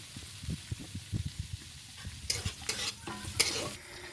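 Chopped onions, carrot and capsicum stir-frying in a pan for egg chow mein, a steady low sizzle broken by repeated scraping stirs, with louder bright hissing bursts in the second half.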